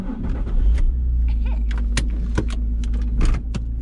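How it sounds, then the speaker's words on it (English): Someone climbs into a car: close thumps, rustling and a door-like clunk over a low steady rumble, with a few sharp knocks scattered through. "So let's hop into the car and start talking some more."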